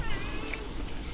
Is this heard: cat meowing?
yes